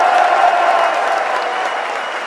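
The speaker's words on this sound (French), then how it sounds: "un tonnerre d'applaudissements pour l'écrivain Boualem Sansal" Large political rally audience at the Parc Floral giving writer Boualem Sansal a thunderous ovation, dense continuous clapping with crowd cheers, loud and slowly easing off.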